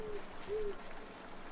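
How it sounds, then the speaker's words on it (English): A large owl in the Colossal Cave adventure game gives two soft, low hoots, a short pause between them, faint over a hissy background. "Oh, ooh, big owl."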